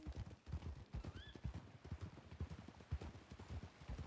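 Horse hooves clip-clop in a steady, rapid gallop rhythm within the Red Dead Redemption 2 roleplay world (RedM), with a brief rising whinny early on, close and fairly loud throughout with no talking.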